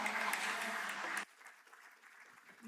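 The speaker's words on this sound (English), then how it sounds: "Let's have a big round of applause for them." Conference attendees applaud the technical staff and interpreters at an archives colloquium, steady crowd clapping that stops abruptly, followed by quiet room noise.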